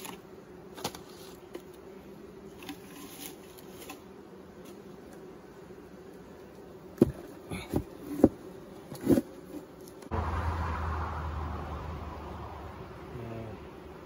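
Honey bees hum softly around an open hive during an inspection on an emergency split. The quiet buzz is broken by a few light knocks, then grows into a louder, denser drone near the end.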